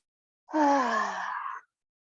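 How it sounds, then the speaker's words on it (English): One long, voiced exhale out through the mouth during a yoga class, a close, moaning breath lasting just over a second, heard alone against silence. "Let's exhale out the mouth"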